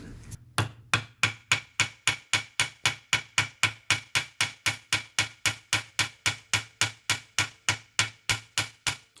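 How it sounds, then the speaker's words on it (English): A rivet hammered flat against a bolt used as a small anvil, about thirty sharp metallic blows in a steady, even rhythm after a couple of first taps, loud and close. "Because the rivet's recessed, I've put a bolt in here and I can rivet against that, use that as a little anvil."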